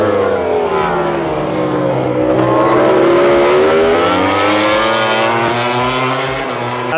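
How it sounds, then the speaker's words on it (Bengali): Racing motorcycles at a MotoGP race in Thailand roar past on track, a loud, sustained engine wail with sweeping pitch changes as bikes approach and pass, several machines overlapping with no talk. "ওই যে বাইক যাচ্ছে, সাউন্ড হচ্ছে"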